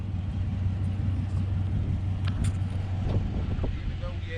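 A Dodge Durango with a 5.7L engine rolls along at speed, heard as a steady road rumble and engine drone from inside the cabin.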